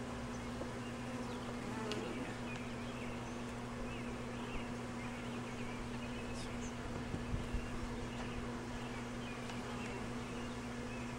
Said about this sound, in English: Look out, bees.